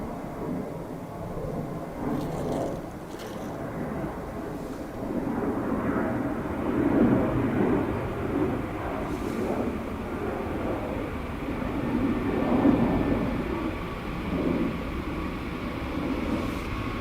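A Boeing 737 Max 8 airliner arriving from Palma de Mallorca at rainy Dublin Airport gives a steady, low, rumbling roar that swells gently and stays fairly distant throughout.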